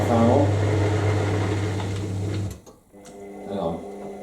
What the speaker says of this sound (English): Dryer fan on.